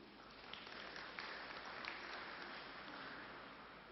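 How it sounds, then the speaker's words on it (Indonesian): Audience applause at the inauguration of a halal center, a steady wash of clapping from a crowd that holds at an even level for the whole stretch, with no talk over it. "Tepuk tangan untuk beliau."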